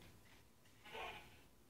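A single short sheep bleat from Minecraft rings out mid-clip, fairly close, against a quiet background.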